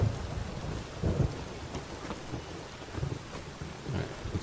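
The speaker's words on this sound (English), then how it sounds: "Witches have conjured rain again." Rain and thunder in The Witcher 3 video game: a steady hiss of rainfall with repeated low rumbling thunder swells rolling in every second or so, no voices.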